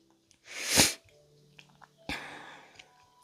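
A single loud, close sneeze bursts out alone, followed about a second later by a second, weaker sneeze-like exhale, with quiet room tone between.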